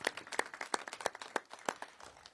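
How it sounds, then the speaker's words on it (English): A small group claps in an irregular patter of sharp, crisp hand claps lasting a couple of seconds. "let's give them a round of applause"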